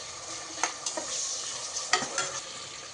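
Small tomatoes sautéing in a pan for a meat kanji, a soft steady sizzle with a few light clicks of stirring, close and quiet.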